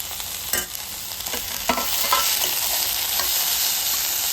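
Onions and tomatoes fry in a pan, giving a steady, loud sizzle. A few stirring scrapes come early, then a constant crackling hiss.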